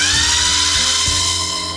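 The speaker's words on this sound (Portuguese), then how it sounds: "Fazer um furinho aqui com a broca de 1 mm para facilitar a entrada do parafuso" Small electric drill driving a 1 mm bit into MDF to make a pilot hole for a screw, a steady high-pitched whine running continuously and close up, with no speech.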